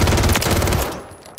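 Rapid automatic fire from the Wasp gun in a video game, a dense burst of fast shots lasting about a second before cutting off, loud and close with no talk.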